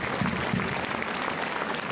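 Spectators applauding at a match, a dense wash of clapping from a crowd that holds steady and fairly loud throughout the brief moment.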